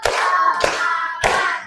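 A fifth-grade class claps together in a classroom, three loud, evenly spaced group claps with children's voices carrying between them.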